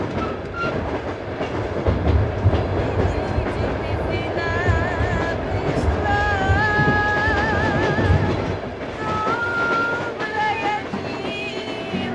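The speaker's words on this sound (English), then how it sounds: "driving this train, train number 1, to Russia" A train on the Trans-Siberian Railroad rumbles steadily along the rails, with rhythmic clatter and occasional high metallic squeals, loud and close throughout.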